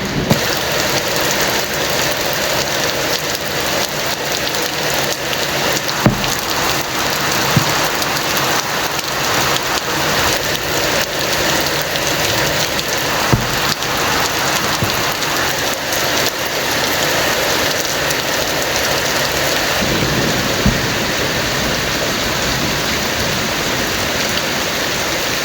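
Heavy rain pouring steadily, a dense, unbroken roar of drops hitting surfaces close by for the whole stretch, with a few faint knocks here and there.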